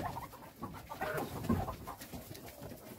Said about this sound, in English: let's go do the other chickens, Gwenny.